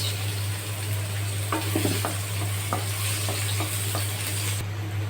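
Oil sizzles steadily in a wok as onions fry for a braised aar fish curry, with a few scraping stirs and a low constant hum beneath.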